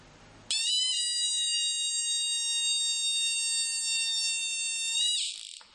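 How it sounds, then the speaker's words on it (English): A rain alarm's small speaker rings when water touches its sensor plate: a loud, steady, shrill electronic tone that starts abruptly, holds unbroken for nearly five seconds, then cuts off, with no talk. "When you put water on the sensor plate, the red LED will glow and the alarm will ring."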